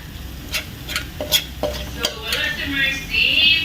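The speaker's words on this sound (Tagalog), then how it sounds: "Ipapry lang natin konti para sa pag-mix ng sibuyas, bawang." Onion and garlic frying in a pan for spaghetti give a soft steady sizzle, broken by sharp clinks and scrapes of a utensil stirring against the pan, with the sizzle swelling louder toward the end.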